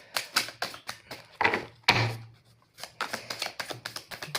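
Tarot cards shuffled and drawn for a single-card reading, a close run of quick papery riffles and taps with a longer soft swish partway through, no talking.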